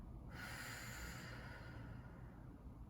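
A strong exhaled breath rushes out close to the mic, a single steady breathy whoosh that holds for about a second before fading into a quiet, low hum.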